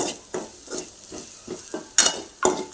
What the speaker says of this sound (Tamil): இப்போ நல்லா தேங்காயும் வெங்காயம் எல்லாம் சேர்த்து வதக்கணும்.